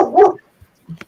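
A dog gives a short burst of barking up close, one loud bark followed by a pause and a couple of softer, brief yips.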